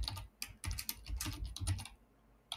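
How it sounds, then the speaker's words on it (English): Fingers type on a computer keyboard, nearby and fairly quiet, in irregular bursts of rapid clicking with a short pause before a final keystroke. "for this, we can type in the column name"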